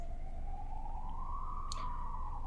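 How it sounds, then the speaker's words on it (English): A passing emergency-vehicle siren wails in a steady rising-then-falling sweep, moderately loud over a constant low rumble of background noise, with a brief sharp burst of noise near the end. "There's the siren."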